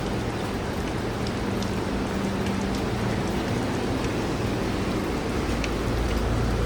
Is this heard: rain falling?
yes